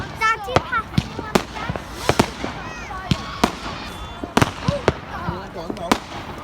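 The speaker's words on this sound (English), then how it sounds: "So guys, fireworks are happening." Fireworks going off on bonfire night, a steady run of sharp cracks and pops, some close and loud, others farther off, with people talking in the background.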